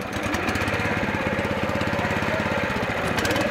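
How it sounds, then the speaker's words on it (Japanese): A Tohatsu twin 50cc racing motorcycle engine runs close by at a classic bike meeting, giving a loud, steady, buzzing two-stroke rattle with fast even pulses throughout and no talking. "お話にありました東発ツインの 50cc のレーサーです。"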